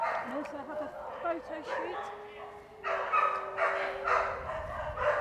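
Several dogs bark and yip at a distance in an outdoor off-lead area of the Soi Dog Gill Dalley sanctuary, with some whimpering mixed in. A person talks clearly in the foreground over the barking.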